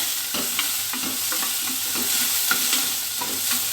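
Baby biryani ingredients being sautéed in a pan with a spoon: a steady sizzle runs throughout, broken by repeated light scraping strokes of the spoon at a gentle, irregular pace, close by and with no talking.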